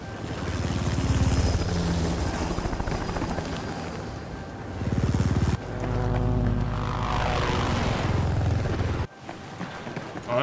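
Loud, steady rotor and engine roar of helicopters in Battlefield 4, shifting in pitch midway, with a brief drop near the end before the roar resumes.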